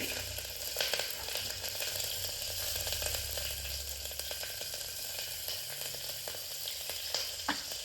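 Green chillies frying in very hot oil over a high gas flame, a dense continuous sizzle and crackle close up with occasional stirring scrapes and a low hum beneath, no talking.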